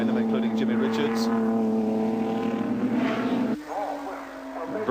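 Racing cars at Bathurst in 1985, including Holden and BMW touring cars, roar past with a sustained high engine drone that shifts in pitch as they pass, under a commentator's voice.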